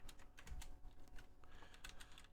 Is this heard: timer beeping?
no